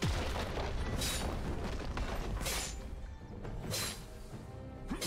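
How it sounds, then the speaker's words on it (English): A turret being destroyed in League of Legends sounds as several booming, crashing bursts, with sharp high transients recurring at intervals over a dense, loud rumbling game mix. "Blue team's turret has been destroyed."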